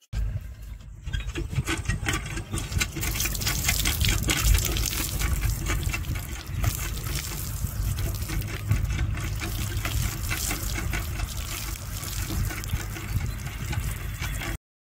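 Cold village water gushes steadily from a tap outdoors, a loud, continuous splashing rush that fills the whole stretch without pause.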